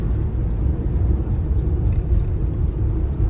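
A car crossing a long, windy Florida Keys bridge near Bahia Honda, heard from inside as a loud, constant low rumble of road and wind noise with no clear changes.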